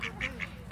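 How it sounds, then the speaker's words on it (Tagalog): A duck quacks four times in quick, evenly spaced calls, near and clear over low outdoor background noise. "Ang itik, pwede ba itong lulutuin, guys?"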